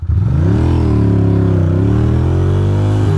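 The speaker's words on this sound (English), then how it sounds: "Little baby wheelie there." Ducati Monster motorcycle engine revving hard and pulling up through the gears on a New York City street as the rider lifts a small wheelie, a loud, close, sustained rising roar with no talk.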